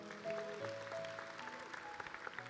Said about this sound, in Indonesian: Kasih tepuk tangan tuh Tuhan